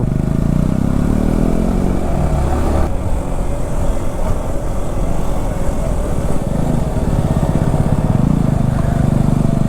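Loud, steady Yamaha R15 M motorcycle engine drone throughout, rumbling low with a rising revving tone near the end, close by and continuous.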